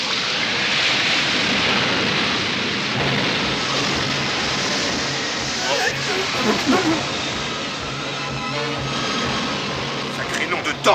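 Broad, roaring wash of wind and surging water fills the whole clip, steady and loud, a stormy sea with waves breaking around a sailing ship.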